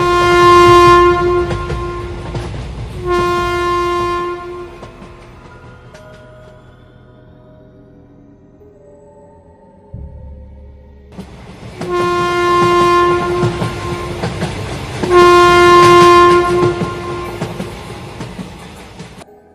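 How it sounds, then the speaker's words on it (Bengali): A train running along the tracks, loud and close, with long blasts of its horn at the start and again near the end and a quieter rumbling stretch between them. "তাই আজ বিকেলের ট্রেনে করে বেরিয়ে পড়লাম।"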